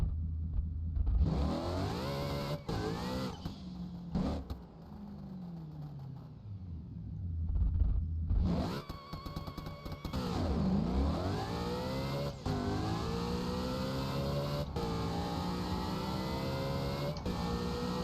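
A turbocharged drag car engine with billet parts and boost turned up revs in a racing video game, repeatedly climbing and dropping in pitch, then settling into a steady high drone.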